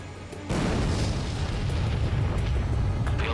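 A loud, rumbling explosion erupts abruptly as an enemy UAV is destroyed in Ace Combat 7, followed by a sustained roaring blast that holds steady to the end.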